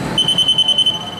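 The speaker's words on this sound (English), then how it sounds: "so it'll give you a loud buzzer" Loud alarm buzzer on a pump control panel, a rapid series of about eight sharp electronic beeps in quick rhythm, close and piercing, then stopping.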